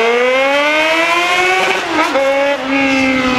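Yamaha XJ6 motorcycle engine revved hard close by, a loud sustained roar whose pitch climbs and dips between throttle blips, with a voice faintly underneath.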